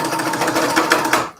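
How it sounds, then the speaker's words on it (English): A sewing machine runs a test line of stitching for a junk journal, giving a close, steady mechanical whir with a fast rhythmic needle chatter that slows and cuts off at the end. "Let me run some tests. Let me make sure it's sewing."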